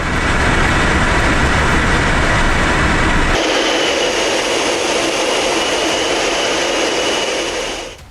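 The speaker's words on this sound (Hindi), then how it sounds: "MiG-31 BM दुनिया का सबसे तेज ऑपरेशनल इंटरसेप्टर जेट है" A MiG-31BM interceptor jet's engines give a loud, continuous broadband roar that shifts to a slightly thinner, hissing tone partway through and stays steady until it fades at the end.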